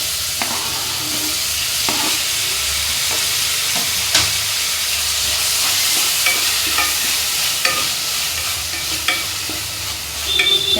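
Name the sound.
tomatoes and green chillies frying in a pan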